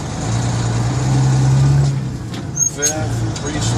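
A truck engine drones steadily through upshifts, its tone dropping and rising as gears change, with an air-brake-like hiss and someone speaking over the rumble.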